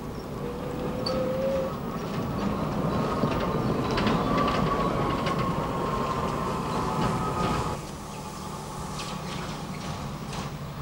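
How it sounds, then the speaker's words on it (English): Race trains arrive at Haydock Park Station in 1956 with a continuous rolling rumble and wheel clatter, a brief faint squeal early on, easing to a quieter level near the end. "These sequences, filmed on the 18th of May 1956, show race trains bringing punters to Haydock Park Station."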